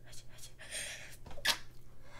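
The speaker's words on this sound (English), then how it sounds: "This girl is sneezing uncontrollably." A girl sneezes inside a haunted house attraction, a short run of sharp breathy bursts and sniffs, the loudest one near the end, fairly close and with no talk over it.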